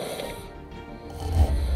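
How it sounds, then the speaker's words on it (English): A single deep, rattling snore rises close and loud near the end of a short stretch, heard alone without talking. "others reported that they began to snore"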